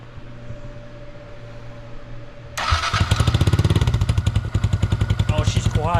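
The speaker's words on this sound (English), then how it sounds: "I swapped over the exhaust, so we'll give her a startup. It's got the baffle in" A 2022 Honda Grom motorcycle with an aftermarket exhaust, baffle installed, idles quietly, then fires up near the microphone and settles into a steady, fairly subdued thumping idle.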